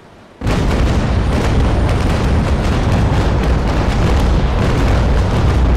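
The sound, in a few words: ship cannon broadside in video game Naval Action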